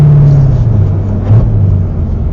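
An FBO C7 Corvette Stingray's loud engine roars close up as it accelerates with wheels spinning, a heavy low rumble that climbs and dips in pitch through a shift, unbroken and dominating from start to finish.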